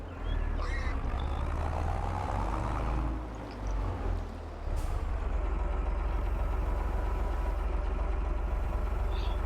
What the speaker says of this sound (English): It's funny how this small tractor goes faster in reverse than the big one.